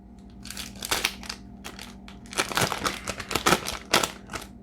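Tape being cut open on a sports card mail package, with close, irregular crinkling, crunching and snipping bursts of plastic and cardboard in short clusters and no voices.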